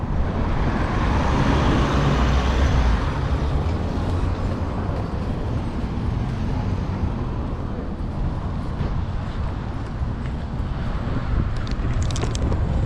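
Road traffic passes steadily on a street in Williamsfield, Manchester, Jamaica, a continuous rumble of vehicles that is loudest in the first few seconds and then settles into a broad, even roar with no one talking.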